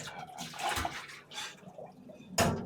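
Chicken pieces being washed in water with lime and vinegar for Jamaican fried chicken, with close splashing and sloshing in short bursts and a louder splash at the end.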